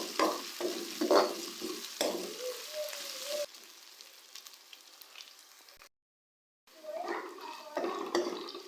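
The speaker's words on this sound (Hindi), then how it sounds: "अदरक लहसुन के पेस्ट को हम लोग प्याज के साथ इस वक्त तक फ्राई करेंगे" Ginger-garlic paste fries with onions in a pan, a soft sizzle broken by stirring scrapes, with a person talking over it and a brief silent gap partway through.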